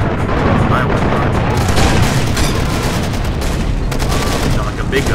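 Big gun firing in Far Cry 2, a dense, loud barrage of booming shots and rumble that runs continuously through the whole stretch, with a few sharper cracks standing out.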